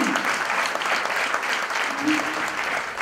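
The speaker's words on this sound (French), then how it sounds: "on va vous applaudir" An audience at a conference applauds the reception staff with steady, fairly loud clapping throughout, and a voice is briefly heard over the clapping near the start and again about two-thirds of the way through.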